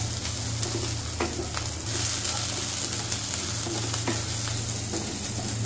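Chopped onions stirred while frying in a pan until browned, a continuous close sizzle broken by regular scraping strokes of the spoon, with a low steady hum beneath and no talking.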